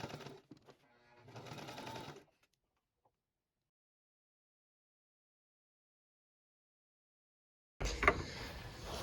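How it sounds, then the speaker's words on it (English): Sewing machine stitching lining onto a peplum top in two short bursts, a brief rapid run followed by a longer steady whir, then silence before another burst starts; close and fairly quiet. "we are going to sew on the lining, and we are sewing close to this as much as we can"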